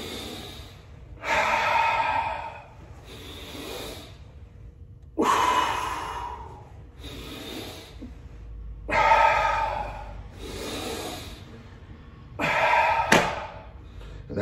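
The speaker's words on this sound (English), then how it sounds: "So, just some breathing." Heavy breathing during a jiu-jitsu workout: slow, deep, forceful exhales and inhales repeat in a steady rhythm, close and loud, with short quiet pauses between each breath and no talking.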